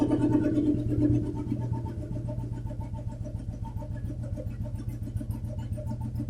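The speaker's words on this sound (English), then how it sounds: "So I'll just lower down the RPM" A cast iron Royal Enfield 350/500 single-cylinder engine idles close by, its RPM being lowered, settling into a steady, even thumping beat after a brief higher-revving start.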